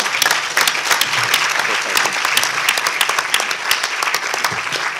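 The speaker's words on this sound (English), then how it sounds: "can I just ask you to give everyone a big round of applause, yourselves and the contributors" A big round of applause from the audience at a GMO risk evaluation conference, loud and close, with crisp individual claps standing out from a dense, continuous crowd sound.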